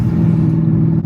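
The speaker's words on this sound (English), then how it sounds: "I'm just obsessed with hearing that exhaust" A signed Shelby Mustang GT350's exhaust giving a deep, loud, throbbing rumble up close, steady through a very short moment with a slight dip at the end.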